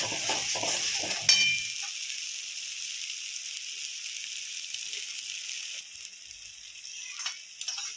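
Vegetable curry with sugar stir-fried in a pan: a steady high sizzle runs throughout, with a few clinking stirring strokes at the start and brief scraping near the end, close and fairly quiet.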